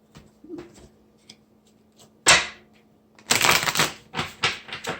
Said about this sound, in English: Let me clear these cards here first.